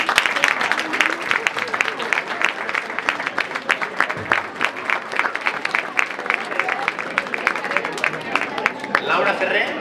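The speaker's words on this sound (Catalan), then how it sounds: "un fort aplaudiment per al Sau" A crowd at the Expoclick fair in Amposta claps steadily for about ten seconds, dense and fairly close, with a brief dip midway and murmur of voices underneath.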